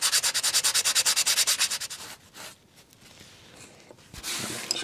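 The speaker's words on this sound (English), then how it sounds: "And just using that tack cloth again. Get rid of the just the excess sawdust." Tack cloth rubbed back and forth over a wooden model ship to clear sawdust, about a dozen quick rhythmic rasping strokes, then softer scattered rubbing and a final brief swipe.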